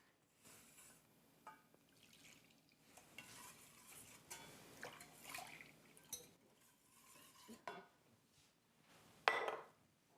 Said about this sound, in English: now I'll whisk in my milk